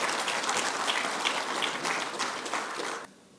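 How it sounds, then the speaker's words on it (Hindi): Audience applause at a ceremony releasing a stamp for the Zoological Survey's centenary, a dense burst of clapping that holds for about three seconds and then cuts off abruptly. "हम उनको जोरदार तालियों से इसका स्वागत करें।"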